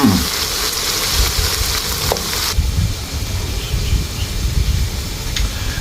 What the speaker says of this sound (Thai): ใส่น้ำตาลทราย ใส่ซอสหอยนางรม แล้วก็ผัดให้เข้ากันครับ